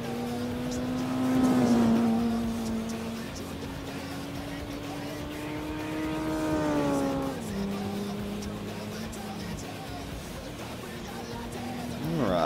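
A front-wheel-drive Mitsubishi Mirage in a Gran Turismo 4 Japanese compact car race drones through rising and falling revs, climbing and shifting repeatedly, moderately loud, with faint talk underneath at moments.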